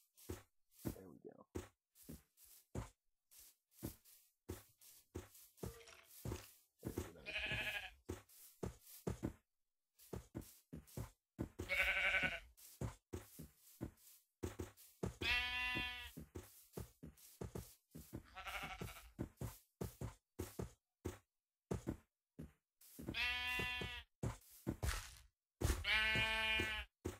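Sheep bleating close by, several separate calls scattered among a person's frequent coaxing speech and some knocking sounds, loud against a quiet background.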